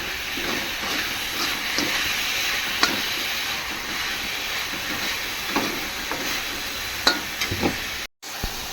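Coconut laddu mixture with melted sugar and cardamom being stirred, a constant steamy hiss with soft scraping strokes and a brief gap near the end.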